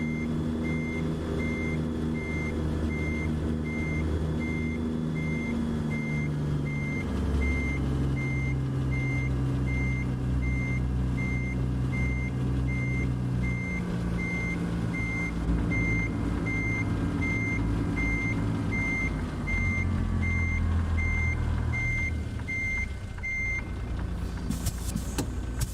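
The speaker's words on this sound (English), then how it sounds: "we are a rookie because I got a backup beeper" Backup beeper on a truck in American Truck Simulator, a steady high electronic beep repeating at an even pace over the low droning idle of the engine, continuous and close for a long stretch.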